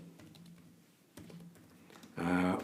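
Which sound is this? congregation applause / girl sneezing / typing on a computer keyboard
typing on a computer keyboard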